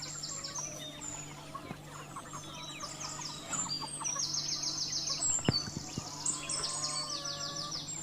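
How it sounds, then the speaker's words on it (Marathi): Free-range village chickens cluck and call in a yard, with several birds overlapping in short repeated bursts over a steady low hum, growing a little busier and louder toward the end. "ही आपली सगळी प्युअर गावठी कोंबडी आहेत"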